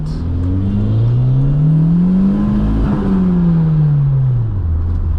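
A damaged, smoking Mk2 engine revs hard under heavy acceleration, its loud droning note climbing steadily then falling away as the car is driven hard.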